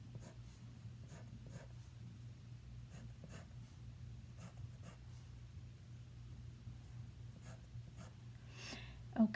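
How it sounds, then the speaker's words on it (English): A pen draws lines across a worksheet of one- and two-step algebra equations: faint, quiet scratchy strokes recur in short bursts over a steady low hum, ending in one slightly louder stroke. "I'm just going to go through and draw the lines on all of these right now"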